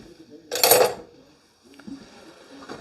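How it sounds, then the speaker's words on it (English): A fork flips eggs in a non-stick pan, making one bright metallic clink near the start, followed by a few faint, soft scrapes and taps in a quiet kitchen. "And let me get a fork and flip these."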